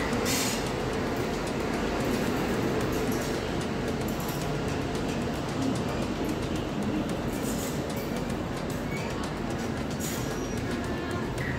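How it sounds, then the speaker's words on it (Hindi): Indian express trains, the Sampark Kranti Express and the Jalandhar Intercity, race side by side on parallel tracks, giving a loud, steady roar of rolling wheels and rushing wind throughout, with faint voices underneath. "और आपको दिखाते हैं वही ट्रेन की रेस जिसे देखने में मुझे बहुत मज़ा आया"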